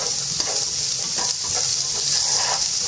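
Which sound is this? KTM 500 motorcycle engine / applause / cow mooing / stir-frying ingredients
stir-frying ingredients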